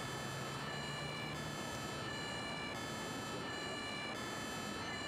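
Ambulance siren in the video game Emergency 5 (Wuppertal mod), a steady two-tone wail holding loud throughout against a dense engine and traffic rumble, with no talking.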